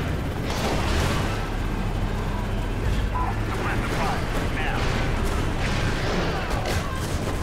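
Heavy rumbling and booming from a military tank firing in the video game Prototype, a dense continuous barrage of low blasts and crashes amid chaotic battle noise.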